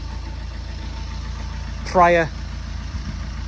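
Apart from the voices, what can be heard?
Fiat 500 engine running at idle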